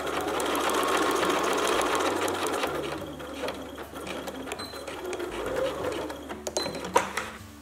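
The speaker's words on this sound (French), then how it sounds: "Et donc je couds jusqu'à rejoindre le point de commencement d'assemblage de la manche" A sewing machine stitches a parka sleeve to its lining, running in a steady, fairly loud mechanical whir that eases off partway through, then returns with a few louder clicks near the end.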